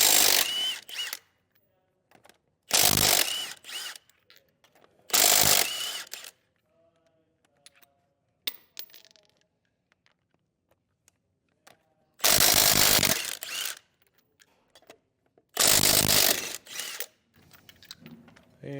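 A ratchet fitted with a 19mm socket loosens wheel lug nuts on a 2022 Forest River Rockwood Geo trailer, five loud bursts of rapid close clicking separated by quiet pauses.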